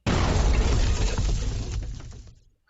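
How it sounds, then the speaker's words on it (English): A burst of fireworks-style sound effect: one loud, dense crackling blast that starts abruptly, holds its full roar with sharp pops and shattering crackle, then fades over about two seconds, with no voices. "Let me see if we have fireworks because I could swear we have fireworks."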